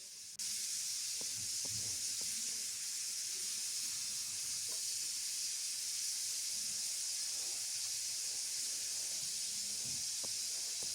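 A steady, loud hiss of steam escaping a pressure cooker cooking meat runs unbroken from start to finish, with faint kitchen clatter beneath it.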